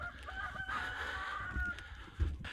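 Chickens in a coop during a snowstorm, fairly faint, with a drawn-out crow-like call and a few honking, clucking sounds close by against quiet background noise.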